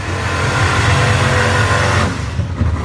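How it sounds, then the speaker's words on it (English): A Corvette drag racing at Music City Raceway, a loud close engine roar holding strong, then dropping away sharply near the end as it pulls off. "That is an active Corvette there"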